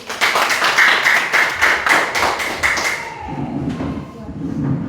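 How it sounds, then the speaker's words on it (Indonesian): A class group applauds group 1 in an Indonesian teaching session, with a short burst of dense clapping for about three seconds that gives way to a voice speaking. "mari kita berikan tepuk tangan untuk kelompok 1"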